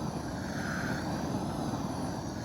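A propane torch heating a flat-roof cap sheet during flashing installation, a steady close roaring blast of the flame with a broad rushing hiss that holds constant and has no talking over it.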